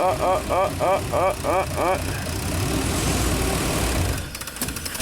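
A classic Chevy engine idling roughly while running lean, a lumpy uneven rumble with rhythmic pulsing at the start, steady and close, under a voice.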